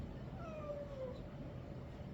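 A domestic cat gives a thin, drawn-out meow that rises and falls, fairly faint over a steady indoor background hum, with no talking.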